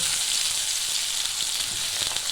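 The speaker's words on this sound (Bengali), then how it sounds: "একটু হালকা করে ভেজে নেব।" Ridge gourd and pointed gourd frying lightly in a pan, giving a steady, even sizzle close by with no talk.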